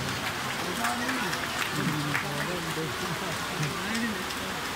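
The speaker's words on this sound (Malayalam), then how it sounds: "എല്ലാവരും കൈയടിച്ച് പ്രോത്സാഹിപ്പിക്കുക" Dense, steady clapping from an audience at a kalaripayattu debut performance fills the clip, with a voice talking over it throughout.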